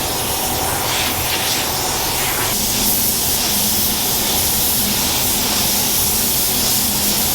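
A spray gun lays base coat paint onto an off-road recovery Jeep, producing a loud, continuous close-up hiss of air and atomized paint that holds steady throughout with a slight shift in tone midway.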